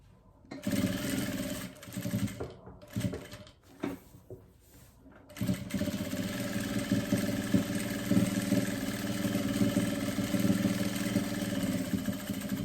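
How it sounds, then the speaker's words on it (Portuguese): A sewing machine stitches a ruffled sleeve, first in short stop-start bursts and then in a long, steady, close whirring run with a continuous mechanical hum. "Chegou aqui, ó, onde eu comecei a costura, dou o retrocesso e termino."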